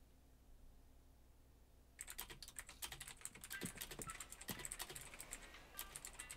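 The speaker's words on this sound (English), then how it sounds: "Gotta keep my typing fingers active." Rapid typing on a computer keyboard starts after a short quiet stretch, with close, crisp key clicks in an uneven rhythm and occasional heavier strokes.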